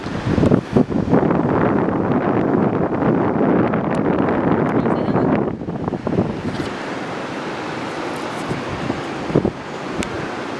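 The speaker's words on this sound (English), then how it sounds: "It's kind of windy right now." Strong wind roars and buffets a nearby microphone outdoors in Olympic National Forest, a loud constant rush with gusty bumps that eases slightly partway through.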